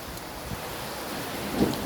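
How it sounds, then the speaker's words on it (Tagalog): Heavy rain pours steadily in San Luis, Pampanga, a dense close hiss of drops with low thunder rumbling underneath, no voices over it. "Hindi pa naman masyado grabe ulan."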